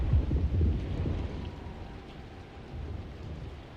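Thunderstorm in Alone in the Dark (2024): a deep rolling thunder rumble at the start fading into a steady hiss of rain, no voices.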